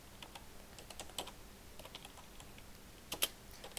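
Soft keystrokes on a computer keyboard while typing text into Microsoft Word, a steady light patter of clicks with a quick flurry near the end, quiet and close.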